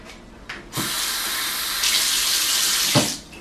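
Water streams steadily from a tap or is poured for drinking, a continuous bright rush lasting about three seconds, starting and stopping with soft clunks, loud and close with no talk.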